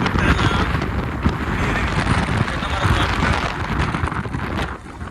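Strong wind roars and buffets the microphone continuously beside a road near a waterfall, a loud broadband rush with gusty swells and a voice faintly speaking Tamil.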